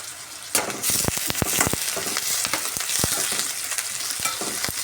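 Onions fry in a pan for a potato curry, a dense, loud, continuous sizzle close up, broken by quick sharp clicks and scrapes from a utensil working through them, with no voices.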